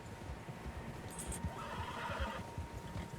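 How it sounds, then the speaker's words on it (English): Horses in the Red Dead Redemption 2 video game whinny in a brief high call over a steady low rumble of hoofbeats and movement, with a rougher neigh following, all moderately loud and with no talking. "Horses, quite a few of them."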